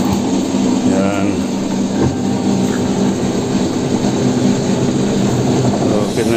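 The drain pump of a top-loading washing machine under repair for an E3 error runs with a loud, continuous mechanical hum and a churning, rattling texture, steady throughout without pauses.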